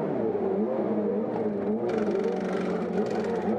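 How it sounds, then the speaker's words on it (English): Indy race car at the 1991 Indianapolis 500 heading into the pits, a droning engine whine with shifting pitch and some crowd or track clatter, moderately loud and continuous. "There's Mario heading for the pits"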